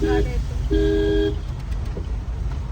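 A car comes toward the listener on a flooded Pune–Solapur road and sounds two short horn toots over a low engine rumble, while people talk nearby.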